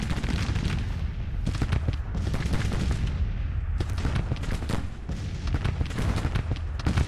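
Artillery batteries fire again and again on a Civil War battlefield in the strategy game Grand Tactician, dense rolling booms and sharp cracks overlapping almost without pause, loud and continuous.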